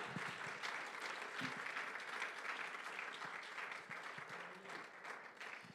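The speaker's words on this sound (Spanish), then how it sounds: "Dele un aplauso a Cristo" A church congregation applauds together during an evangelical sermon. The clapping is soft, continuous and evenly spread throughout, with a few sharper claps standing out.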